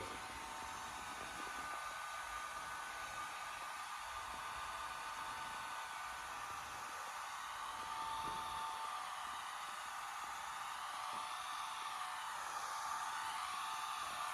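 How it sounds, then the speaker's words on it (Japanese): A household hair dryer on its gentle hot setting blows a continuous, even airy whoosh close by, holding steady for the whole stretch with no talking. "これ家庭用のヘアドライヤーのホットでゆるい方"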